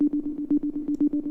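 A sine-wave second oscillator in an Ableton Live synth gives a steady, close, moderate tone, repeatedly re-struck in quick, even pulses.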